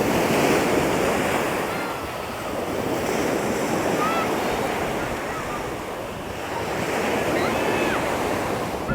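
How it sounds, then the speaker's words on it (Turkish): Ocean waves wash onto a beach in Miami in a steady, rolling surf roar with wind buffeting, swelling and easing in slow cycles and with no talking. "Suyun sesini dinleyelim."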